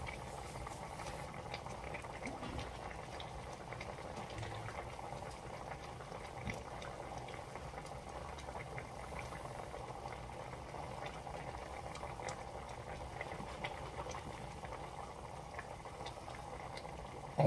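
Sauce for slow-cooked beef short ribs simmering in a pot, a steady low bubbling boil that continues evenly throughout at a soft, close level with no talking.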